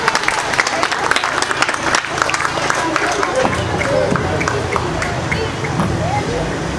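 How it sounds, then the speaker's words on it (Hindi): An audience at an award ceremony for an Independence Day prize-giving event claps in sustained, dense applause, loud and close, with crowd murmur and a voice underneath. "भरपूर तालियां।"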